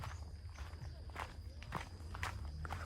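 Steady footsteps walking along a path inside a military camp in Sattahip, close and evenly paced, several distinct steps over a low background rumble.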